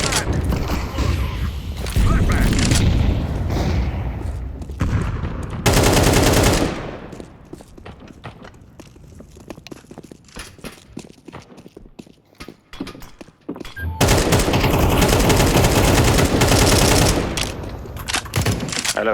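Gunfire and a flashbang blast from a tactical shooter match fill the opening and closing stretches with loud, dense bursts, separated by a quieter middle of scattered clicks, footsteps and mechanical clatter; no voices are heard.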